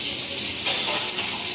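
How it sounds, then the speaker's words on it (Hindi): A pressure cooker vents steam while mutton cooks in a home kitchen, a steady, loud hissing rush that swells slightly midway and carries on alone throughout. "ये मोर सीटी आसीगला"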